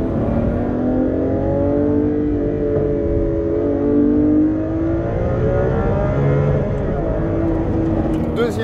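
Lamborghini Aventador SVJ with its 770-horsepower V12 accelerating hard, the engine note climbing and dipping through repeated revving sweeps. It sounds loud and continuous, as heard from inside the car.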